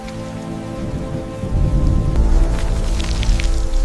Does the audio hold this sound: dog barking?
no